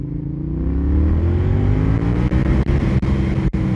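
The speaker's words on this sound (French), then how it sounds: "le bicylindre parallèle, très souple, très vigoureux, s'exprime à merveille" Yamaha XSR 700 with a parallel-twin engine pulls hard under acceleration, its steady rising drone climbing in pitch over a few seconds, loud and close, with brief dips as the throttle eases near the end.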